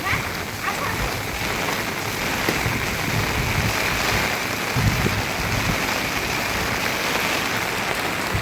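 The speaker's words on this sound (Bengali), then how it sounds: "কি পরিমাণ বৃষ্টি শুরু হয়েছে দেখো।" Heavy rain pours down steadily during a red-alert storm, a dense, continuous hiss and patter that fills the whole stretch at an even level with no voices.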